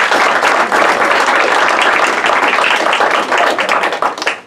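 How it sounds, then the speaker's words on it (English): A theatre audience at a charity magic show applauds a young volunteer named Benjamin called up on stage; loud, sustained, dense clapping from many hands that fades slightly at the end. "Let's have a nice round of applause for Benjamin"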